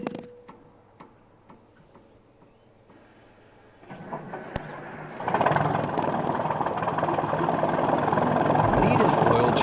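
A truck engine fires up partway through and settles into a loud, steady idle close to the exhaust, following quiet ticking, with people talking over it.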